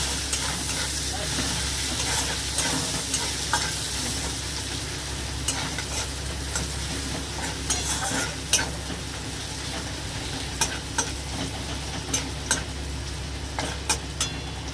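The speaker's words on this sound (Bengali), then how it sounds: "পেঁয়াজটা ভাজা ভাজা হয়ে এসছে।" Onions sizzle in hot oil for potol posto with a continuous crackly hiss, punctuated by scattered sharp clicks from a stirring spoon.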